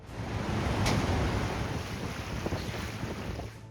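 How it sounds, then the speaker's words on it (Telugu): Broad, steady rushing of Godavari river water lifted by the Pattiseema scheme, mixed with wind buffeting the microphone, continuous and fairly loud throughout. "బిలబిలా పారుతున్న ఈ నీటి ప్రవాహాన్ని చూడండి."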